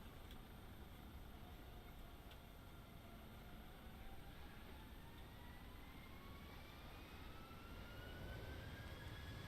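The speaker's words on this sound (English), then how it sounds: "aircraft near me is starting" Nearby jet engine spooling up on the ramp in a flight simulator, a faint steady roar with rising whine tones climbing gradually and growing slightly louder toward the end.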